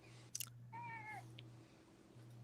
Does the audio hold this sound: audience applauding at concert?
no